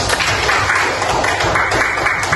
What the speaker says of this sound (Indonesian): tepuk tangan untuk kelompok mulut